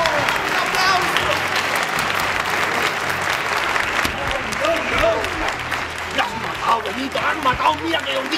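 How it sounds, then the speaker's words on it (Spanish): Loud, sustained audience applause fills a comedy fashion show set, dense clapping running steadily with crowd noise and some voices mixed in. "un aplauso"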